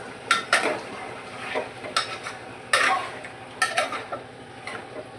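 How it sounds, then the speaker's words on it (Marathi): Chicken stirred in a pot of hot salted water, the spoon scraping and clinking against the metal in irregular bursts, close and fairly quiet, with a faint simmering sizzle underneath. "परत एकदा आपण चिकन हलवून घेऊया।"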